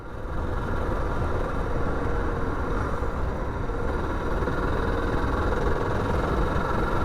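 Suzuki DR650 motorcycle engine on a road test ride, a constant loud close thrum mixed with wind rush, running steadily throughout with no talk.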